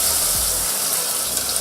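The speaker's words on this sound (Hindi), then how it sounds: "मैं इसमें पानी ऐड करके" Water gushes steadily into a pot of mutton haleem, a continuous close splashing pour with no talking.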